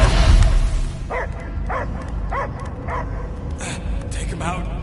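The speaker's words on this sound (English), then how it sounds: "I hear only barking." A dog barks in a short series of evenly spaced yips in the game Guardians of the Galaxy, over a noisy background with low rumble, the barks fairly close and moderately loud.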